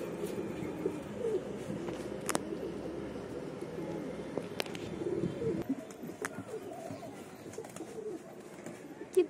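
Pigeons coo softly and continuously in a low, murmuring chorus while being fed, with occasional sharp clicks and flutters over the steady background.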